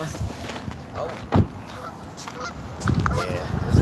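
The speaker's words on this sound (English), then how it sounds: "These geese think I'm finna feed them." Geese honk repeatedly at close range beside a fishing spot near a road, short loud calls scattered among footsteps and a voice talking.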